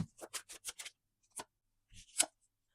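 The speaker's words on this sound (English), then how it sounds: "I'm going to shuffle the cards here" Tarot cards being shuffled make a quick run of five or six crisp riffling snaps, then a pause and a few more separate bursts, close and fairly quiet with no speech.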